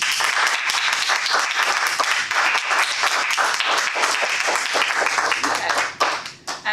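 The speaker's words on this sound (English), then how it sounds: "I want a round of applause" A Toastmasters club audience gives a round of applause: brisk, even clapping from a roomful of people that continues throughout, then tapers off briefly at the very end.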